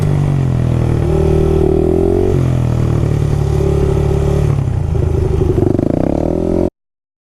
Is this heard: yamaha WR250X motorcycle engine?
yes